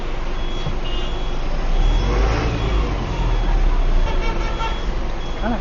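A bus travels close by on a road in India, its engine roar and road noise loud and steady throughout, with beeps and tonal horn-like notes over the traffic and voices now and then.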